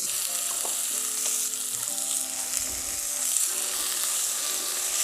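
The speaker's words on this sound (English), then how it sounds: "Cauliflower goes straight into here." Cauliflower fries in a hot pan, a continuous crackling sizzle with a stir partway through, heard alone without talking.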